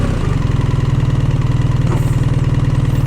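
A BMW R1300GS motorcycle's boxer engine runs steadily at idle, still in its running-in period, with a low, even pulsing throb that is loud and close, with no talking.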